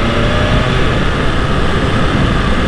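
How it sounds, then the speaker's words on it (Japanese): A BMW S1000RR inline-four sport motorcycle runs at speed, its smooth engine drone blended with heavy wind rush in a loud, steady roar without any speech. "でエンジンはもうひたすら滑らかでスムーズですね、オーソドックスな直四の、エンジンフィーリングっていう、そんな印象です。"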